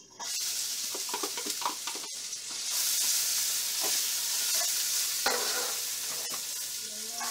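Onions sizzle loudly in a hot pan for Bahamian conch chowder, a steady bright frying hiss broken by scraping stirs near the start and a few clinks along the way.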